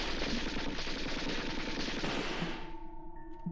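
Rapid automatic gunfire from a police officer's weapon in the video game Lakeview Cabin, a dense, loud stream of shots for about two and a half seconds that abruptly cuts off, leaving faint tones behind.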